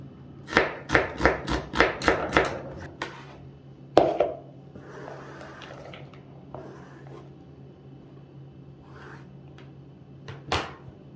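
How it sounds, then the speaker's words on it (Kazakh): An onion chopped finely with a knife: about seven quick, even chops on a board, then a sharper knock and scattered softer cuts. "Жуамызды майдалап турап шығамын."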